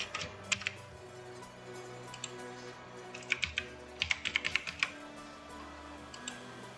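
Computer keyboard typing close by as a GST number is entered, with scattered single clicks early on, then quick bursts of keystrokes in the middle and later, all over a low steady background hum.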